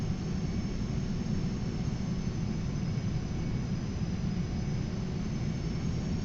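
Steady, even jet engine hiss and rumble from an A-6 Intruder taxiing onto the runway in a flight simulator, constant and unbroken at moderate loudness with no voices.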